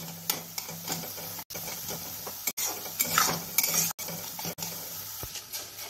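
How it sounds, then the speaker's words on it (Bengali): Rice fries in a pan over a medium flame, a quiet steady sizzle broken by repeated stirring scrapes and utensil clinks against the pan. "মিডিয়াম ফ্লেমে চালটা আমার ভাজতে হবে 2 মিনিট।"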